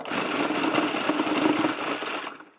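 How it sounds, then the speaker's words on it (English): A food processor whirs in a short loud burst while pulsing turnip or daikon down to a rice-like texture, then cuts off. "Pulse this. Make sure you get a food processor with a pulsing mechanism on it."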